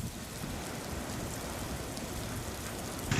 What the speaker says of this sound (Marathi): विश्रांती घेतलेल्या पावसानं पुन्हा एकदा जोरदार हजेरी लावली आहे